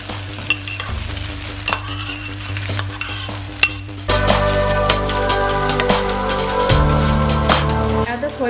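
Shrimp frying with soy sauce in a pan, a steady crackling sizzle that jumps louder as the food goes in, with scattered taps of a utensil and faint background music, heard up close.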